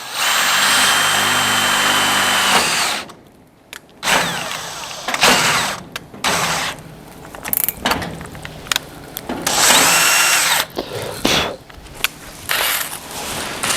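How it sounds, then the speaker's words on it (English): A power drill bores a hole through the steel bonnet of a Mini, a loud sustained whir at first, then a series of short, stop-start bursts separated by pauses. "All right, I'm just gonna drill a hole right here."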